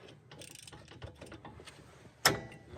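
A 14 mm socket ratchet works on the brake caliper bolts of a Subaru Outback, with faint, quick ratchet clicks followed by one sharp metallic clank near the end.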